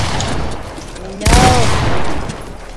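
Gunfire in the Fortnite video game: a loud, sudden broadband blast strikes midway and rings briefly, over a steady bed of game noise, with a short vocal sound rising alongside it.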